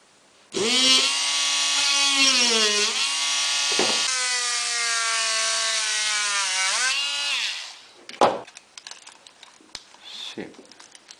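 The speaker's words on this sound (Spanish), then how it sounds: "vamos a hacer los taladros más o menos de 5 milímetros" An electric drill bores roughly 5 mm holes into a plastic box for LEDs. The steady high motor whine sags in pitch as the bit bites into the plastic, then stops, followed by a few sharp clicks and knocks.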